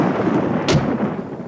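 Cartoon thunder before a rainstorm: a steady, loud rumbling roar with a brief sharper crack partway through, heard alone with no voices.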